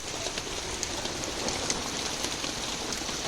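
Steady rain falls at a reservoir during a fishing trip, a soft, even hiss with faint scattered drops pattering nearby, no voices.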